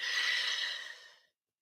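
A single long, close breath exhaled softly and steadily, fading out after about a second, with no other sound around it, during a calm EFT tapping session.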